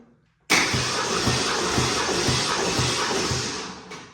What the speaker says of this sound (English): I like to turn the motor over anywhere between 5 and 10 times